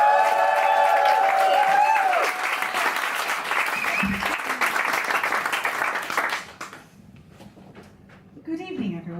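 An audience at a London stand-up comedy show applauds loudly to welcome a comedian to the stage, with sustained clapping and crowd noise that fades out before a voice begins speaking.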